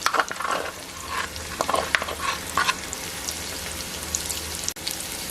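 Onions and garlic stirred as they fry in oil for Puerto Rican meatballs, giving loud, close sizzling with repeated scraping strokes of a utensil and a steady crackle underneath.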